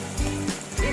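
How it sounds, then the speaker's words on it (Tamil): Green chilies and ginger sautéing in a pan for pongal, a soft steady sizzle with a few louder stirring bursts, close and alone without talk. "இது அப்படியே 1 நிமிஷம் வதக்கி விட்டுடலாம்."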